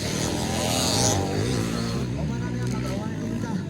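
A local enduro motorcycle engine revs loudly and steadily at an off-road race, the buzzing drone continuous under excited Filipino commentary and shouting voices.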